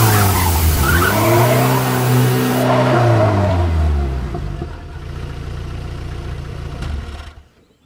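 Car skidding with a tyre puncture, a loud sweeping engine whine and tyre squeal in a chase scene, fading into lower rumbling before cutting off.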